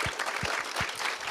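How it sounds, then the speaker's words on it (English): Audience applause at a talk on Tolkien's faith and works, a dense burst of many hands clapping, fairly close and steady across the short stretch with no voices over it. "Let's give him a round of applause."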